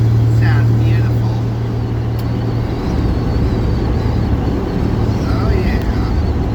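A 120 horsepower engine rolling at speed, a steady, loud droning hum with a low tone that holds evenly throughout, with faint voices underneath.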